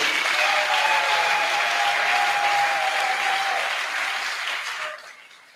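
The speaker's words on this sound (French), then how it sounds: "Acclamons le Seigneur." A congregation at a pastoral ordination breaks into sustained, dense applause that fills the room steadily for about five seconds before tapering off, with no voices over it.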